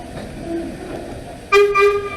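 The Kauai Plantation Railway tour train sounds a short horn toot near the end, loud and close, after a stretch of low rumbling background.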